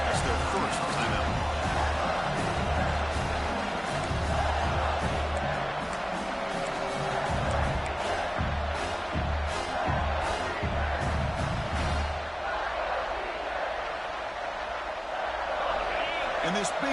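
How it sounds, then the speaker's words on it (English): A big football stadium crowd roars steadily near the goal line, cheering on the defense, with a commentator talking over the noise the whole time. "this big crowd doing everything possible to inspire this defense down here near the goal line"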